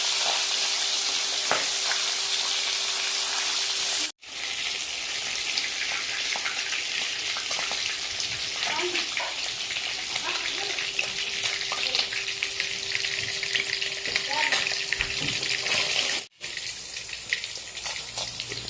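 Fish pieces fry in hot oil for a spinach fish curry, giving a loud, close, continuous sizzle with faint scattered pops and two brief cuts to silence.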